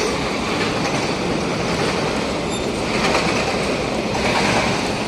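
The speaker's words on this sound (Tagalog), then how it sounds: "Wait natin yung train, guys." A train rolls through a station with a steady, loud broadband rumble of wheels on rails, faint clatter and a brief high squeal, continuous throughout with no talking.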